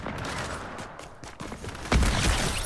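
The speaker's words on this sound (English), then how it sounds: "I want to get a kill with this hunting rifle thingy thing" A hunting rifle fires in a shooting video game: one loud, sharp report near the end, over a busy background of game sounds and distant shots.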